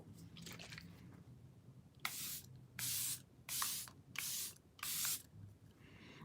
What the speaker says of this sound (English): I'm just gonna set my face with the Airbrush Flawless Setting Spray.